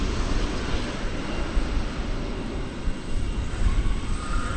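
A Boeing 737-800 arriving at DFW Airport from Des Moines produces a loud, steady, broadband engine roar that holds without break, with no voices.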